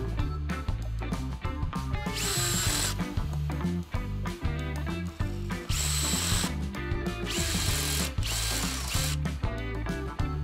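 An electric drill fitted with a pin bit, used for wheel building, runs in rapid stuttering bursts with a clicking, ratcheting rattle, loud and close, continuing throughout.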